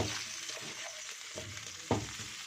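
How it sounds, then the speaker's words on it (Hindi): Kofta kebabs sizzle steadily as they fry in a pan of hot oil, a constant crackling hiss with a few louder pops and spits near the end, close and alone with no voices. "ये देखें जी हमारे काफ्ता कबाब जो है फ्राई होना शुरू हो गया।"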